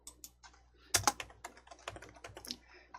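Typing on a computer keyboard during a coding lesson, a quick close-up burst of key clicks with one louder double stroke like a press of the enter key, then lighter scattered taps, no voices.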